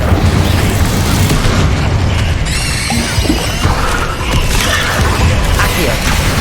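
Fiery spellcasting in the Hogwarts Legacy wizarding game: loud, dense bursts and booming crackle fill the whole stretch, with brief bright flaring swells midway and constant low rumble.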